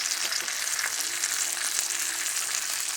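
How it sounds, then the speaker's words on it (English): Steak sizzles steadily in a pan while melted butter is spooned over it, a dense, even crackle and hiss with small spitting bursts, close and continuous, with no voices. "I'm just going to baste the steak"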